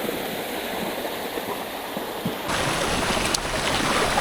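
Rushing water roars as a steady broadband wash, growing louder partway through, like a nearby waterfall pouring into a stream on a mountain trail at Kurangani.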